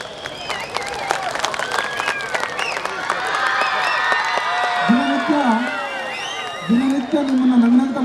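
An audience at a school annual day function claps and cheers in a broad burst of applause, with voices and whoops over it and a nearby voice cutting in partway through.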